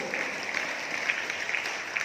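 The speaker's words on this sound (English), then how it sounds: "give a big round of applause to them" Audience applause for a school choir at a Gandhi Jayanti celebration in a school hall, a steady patter of clapping that goes on throughout at a moderate, slightly distant level.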